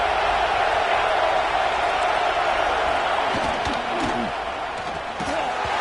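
A college football stadium crowd roars in a continuous wash of cheering and noise, with a few sharper bursts, loud and sustained throughout.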